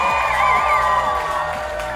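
Wedding guests at a yacht club reception cheer and whoop together as a crowd. The cheering sits under loud, steady background music in a short burst.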